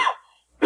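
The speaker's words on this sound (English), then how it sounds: "How long have you had that cough?" A man coughs in two short harsh bursts separated by a brief silence, close and fairly loud, with no other sound around.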